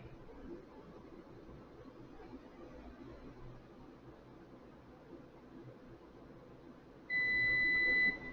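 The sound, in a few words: MC6 calibrator stability alarm beep at set point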